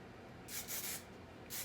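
Herbal Essences hairspray is sprayed onto curled hair in short, quiet hissing bursts, two brief sprays close up with a soft rustle between them.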